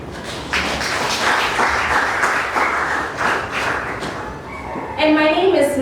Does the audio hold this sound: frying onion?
no